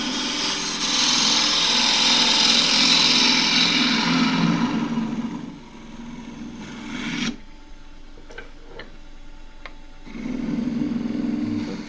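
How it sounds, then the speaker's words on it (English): A drill grinds steadily into end-grain wood on a lathe, boring a depth hole for a turned cup, stops briefly with faint clicks and handling sounds, then starts boring again, loud and close. "Drill a depth hole first."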